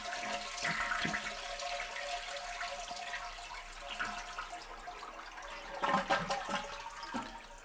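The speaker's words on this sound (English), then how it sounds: "go ahead and flush this toilet and empty out my tank" A household toilet flushing with its water supply shut off, draining the tank in a steady wash of running water with a few louder gurgling surges near the end, close up and with no talk.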